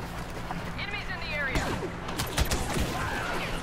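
Bursts of blaster gunfire from a Star Wars Battlefront beta match on the Escape Pods mode, clattering volleys mixed with game effects under excited talking.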